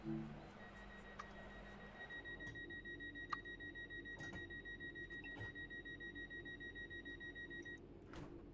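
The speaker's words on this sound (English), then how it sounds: "Quite interesting hearing the difference in buzzers as well" A train door buzzer in Train Sim World 5 on a class 323 at Manchester Piccadilly sounds as a steady, quiet tone that runs for several seconds over rumbling cab noise, with a few short clicks and beeps mixed in.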